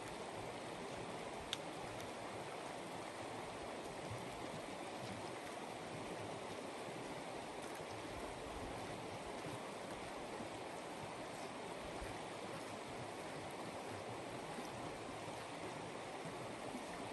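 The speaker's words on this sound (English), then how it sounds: "through this little bit of bushes here, there would be the Sun River" The Sun River in Montana's Bob Marshall wilderness flowing just beyond a screen of bushes, a steady, soft, fairly distant wash of moving water that stays even and unbroken, with no talking.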